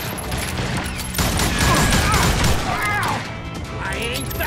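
Rapid bursts of gunfire in the Call of Juarez Gunslinger western shooter game, dense overlapping shots with clattering impacts over roughly two seconds, then quieter game sounds.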